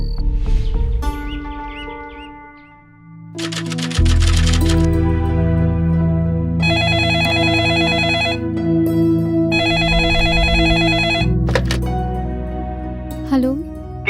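A telephone rings in repeated electronic bursts over a dramatic music score in a crime drama, the ring tone sounding in several long blocks before the music swells.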